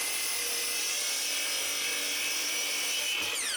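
A saw cuts a 1.5-inch-thick block of hard maple to 9 inches long, giving a steady, dense high whine and rush of cutting noise that holds evenly for a few seconds, close up with no talking.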